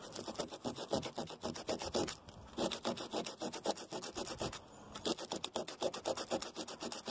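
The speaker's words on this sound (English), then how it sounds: "I got a bit of a way to go here to get all these spots sanded down and get them flush with the deck." 80-grit sandpaper is rubbed back and forth over wooden plugs set into a deck, a rapid rhythmic rasping scratch of repeated strokes with a brief pause midway, close and steady with no voices.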